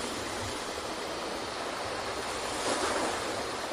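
Steady, close ocean surf washing continuously onto the shore, a dense broadband rush with a slight swell of intensity near the end, no voices.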